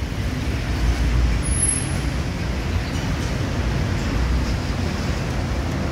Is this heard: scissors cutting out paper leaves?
no